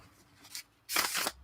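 A deck of playing cards bridged after a riffle shuffle, giving a brief soft flutter followed by a louder, closer rushing cascade of cards settling together, with no voices.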